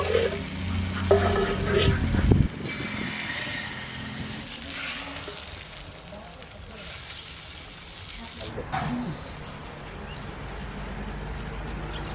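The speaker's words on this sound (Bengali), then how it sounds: "বাকি পিঠেগুলো আমি একইভাবে ভেজে নেব" Chitoi pitha rice cakes frying in a pan, a steady soft sizzle and bubbling running throughout, with a brief louder clatter near the start.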